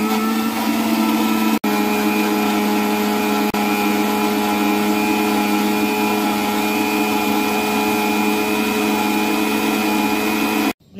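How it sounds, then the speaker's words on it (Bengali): A kitchen blender whirs steadily for about ten seconds, blending mint and lemon with black salt and water into a drink. The motor hum stays loud and even, with a brief dip near the start, then stops abruptly at the end. "এখন এটাকে ব্লেন্ডারে ব্লেন্ড করে নিব"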